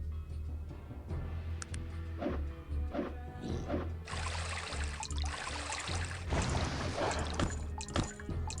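A watery, bubbling magical effect from the video game Arcanum, with trickling and splashing textures swelling over a low hum, growing denser and brighter midway through.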